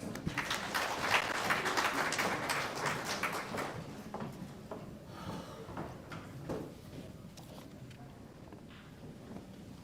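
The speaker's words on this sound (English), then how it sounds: "Let us extend our sincerest welcome with a dignified round of applause." An audience at an educators' conclave gives a round of applause welcoming a chief guest, a dense wash of clapping that is loudest at first and thins out over several seconds, with no talk.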